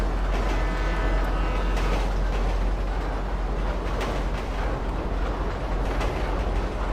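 A train rolls along in the video game GTA 5, a loud, continuous rumble and rattle of wagons on rails with faint clickety-clack, steady and close for the whole stretch without talk.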